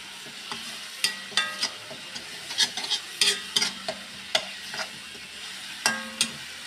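Chilli, garlic and onions frying in a little oil in an iron wok, a constant sizzle broken by sharp, irregular metallic scrapes and clinks of stirring, close and loud.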